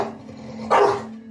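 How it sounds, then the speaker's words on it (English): A Pomeranian dog gives one short, loud bark that cuts sharply through quiet indoor room tone, with no talking. "So if Wilson's barking and it's incessant barking,"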